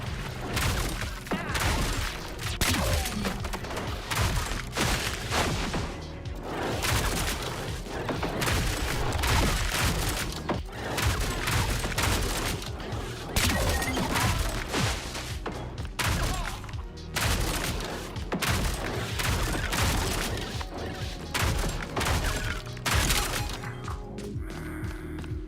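A shotgun fires again and again in the shooter game Oddcore, with dense, rapid booming blasts and impacts packed close together throughout, loud and continuous with no talk.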